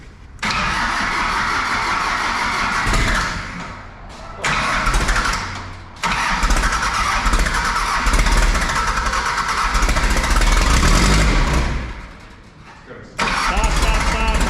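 Diesel engine of a Toro Groundsmaster 580D 16-foot batwing mower cranks and fires, then runs loud and close with brief dips in revs; voices are heard speaking near the machine.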